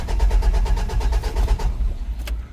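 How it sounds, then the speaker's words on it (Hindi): A CNG car's starter motor cranks with a steady, rhythmic chugging for under two seconds, then cuts out without the engine catching, loud and close with no talking. "गाड़ी करते हैं स्टार्ट।"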